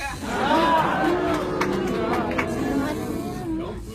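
A large crowd at a campaign rally calls out together in a loud, sustained roar of voices, close and dense, with overlapping shouts and babble throughout.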